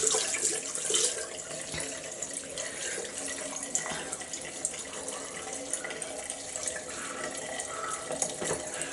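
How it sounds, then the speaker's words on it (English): Water runs steadily from a tap as hands are rinsed of cleansing balm, a continuous close splashing hiss lasting throughout with small spattering variations and no talk. "I'm going to add a wee bit more water, mainly because I want to rinse the gunk off my hands."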